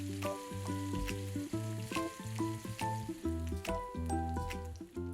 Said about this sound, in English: Fry the paneer cubes from all the sides to get a crispy golden crust on the top.